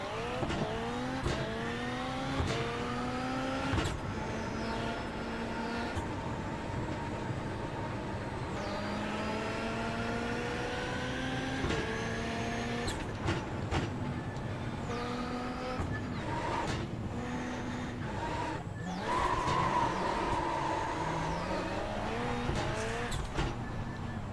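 Race car engine in the iRacing sim during Global Rallycross practice on asphalt, revving and shifting repeatedly with rising and falling pitch, tires squealing and skidding under e-brake use, loud and continuous throughout with no talk.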